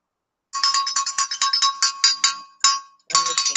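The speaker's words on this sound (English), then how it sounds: "Let's ring Grandma Bobby's cowbell" Grandma Bobby's cowbell is rung rapidly and close up, a bright metallic clanging in a fast string of strikes, then a short pause and another quick burst.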